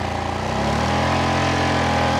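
A Yamaha Kodiak ATV is pushed to full throttle in mud, its engine note climbing quickly in the first half-second and then holding a loud, strained drone close by, with no talking.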